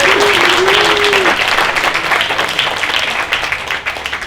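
A crowd at a Bruin family weekend alumni breakfast claps together in an A-clap. Loud, steady applause rings out throughout, with a short whistle or shout rising above it at the start.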